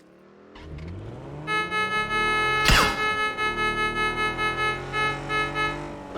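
Car engine in a shooter video game, revving up loudly as the vehicle pulls away, with a pitch that climbs and then pulses through repeated surges of acceleration, close and dominant.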